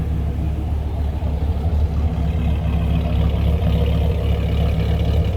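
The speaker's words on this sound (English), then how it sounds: "Throaty little rumble coming out of that V10." A 2004 Dodge Ram SRT-10 pickup's V10 engine idles close by, a deep steady throaty rumble that holds evenly throughout with no talking.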